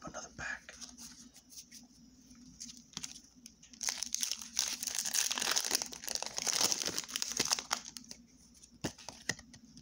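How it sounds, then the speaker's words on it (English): Pokemon TCG Darkness Ablaze booster pack foil being torn and crinkled open up close, with rustling and ripping that builds in the middle; a voice speaks softly in the background. "Let's open up another pack."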